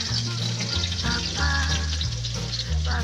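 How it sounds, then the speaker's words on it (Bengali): Garlic and chopped chilli sizzle in hot oil in a wok after potatoes have been fried, a continuous close crackle with steady hiss and a low hum underneath. "আমি রসুন আর লঙ্কা কুচি দিয়ে দিচ্ছি একটু কড়াইয়ে"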